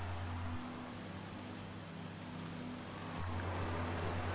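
Heavy, continuous rain hiss in the racing video game F1 2019, with a low engine-like drone that fades out and returns, no talking.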